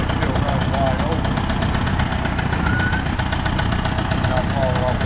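A 1958 Allis Chalmers D14 tractor engine runs steadily close by, a continuous rough mid-pitched chug with slight knocking texture and no pauses, with faint voices in the background.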